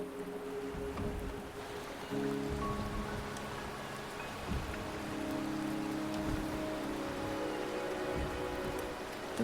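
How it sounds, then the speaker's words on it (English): Steady rain falls in the Wuthering Waves video game, a dense hiss of drops on surfaces with a low droning hum beneath, continuous and moderately loud without any talking. "The rain is subsiding"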